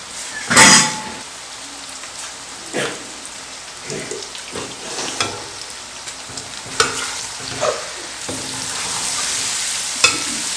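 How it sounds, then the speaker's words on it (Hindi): Chicken spice pasta sauce frying in a pan, a continuous close sizzle and crackle broken by sharper scraping stirs and spoon knocks every second or two, no talking. "अब हम इसे 5 मिनट तक भून लेंगे"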